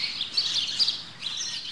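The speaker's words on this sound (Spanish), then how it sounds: "Dios, los pájaros, ¿pero por qué no suena nada más?" Game birds in Mister Mosquito on PlayStation 2 chirp steadily in a summer house setting, a bright continuous twittering with a few sharper peaks and no voices.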